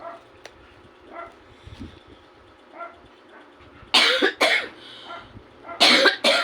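Faint background noise, then several loud, close coughs in quick bursts, a pause, and another harsh cough at the end.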